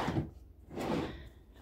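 Drawers sliding open and shut in a Bundaberg motel room, two soft wooden thumps and scrapes close by, quiet and without talk.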